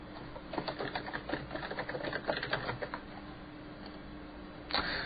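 Rapid clatter of keys on a computer keyboard while typing a file name for a game engine project, a dense run of close clicks for about three seconds, then a pause and one final louder keystroke.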